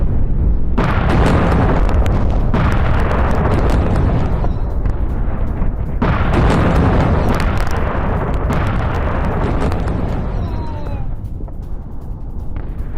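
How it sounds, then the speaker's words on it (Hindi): A missile explodes in a residential area in central Israel, heard as rumbling, roaring blasts at close range, with loud bursts and sustained rolling noise across the whole stretch. "रिहायशी इलाके में गिरी मिसाइल।"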